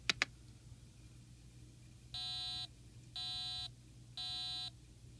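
An Arduino LCD keypad timer alarm goes off, after two quick clicks, as three evenly spaced electronic buzzer beeps, each about half a second long, faint and clean against a quiet hum.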